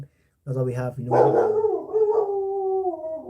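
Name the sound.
neighbor's dog barking and howling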